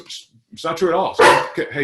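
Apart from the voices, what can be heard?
dog barking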